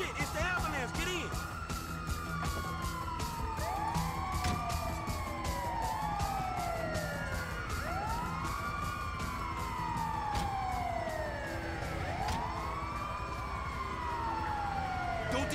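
Ambulance siren in the video game GTA V during a bank heist, continuous wailing and yelping siren sweeps close by throughout, with a vehicle engine beneath.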